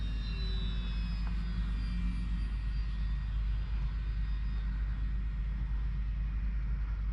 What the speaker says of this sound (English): Fun little plane.